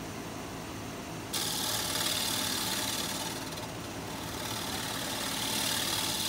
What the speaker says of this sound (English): Another pass or two with the round carbide, and then we'll go back to the scraper.